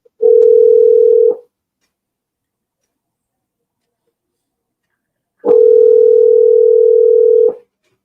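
A telephone's calling tone sounds as two steady, loud electronic tones, the first about a second long and the second about two seconds, separated by a long silent gap.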